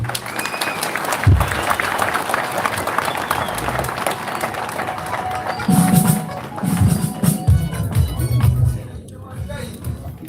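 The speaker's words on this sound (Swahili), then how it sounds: "Tupigie chairman makofi mazuri." An audience at a church gathering applauds the chairman with sustained, dense clapping that fills the room, alongside crowd murmur and a few louder shuffles and knocks near the end.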